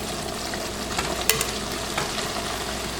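Ground beef sizzles and fries steadily in a pot for a Haitian spaghetti, a constant close hiss with a few brief clinks and stirring knocks.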